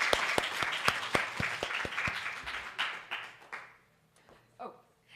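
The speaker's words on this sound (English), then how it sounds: "let's still give a warm round of applause" Audience applause for a candidate at an evening event, steady loud clapping with some sharp individual claps, fading out over the last seconds as a voice speaks near the end.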